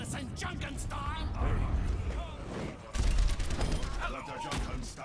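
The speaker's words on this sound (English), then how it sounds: "Dr. Junkenstein lobbed his bombs at the castle." Dr. Junkenstein's lobbed bombs burst against a castle in Overwatch, a dense barrage of booms and crackling blasts that keeps going, loud and close, with voices talking over the battle.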